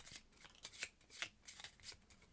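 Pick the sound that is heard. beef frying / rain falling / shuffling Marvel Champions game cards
shuffling Marvel Champions game cards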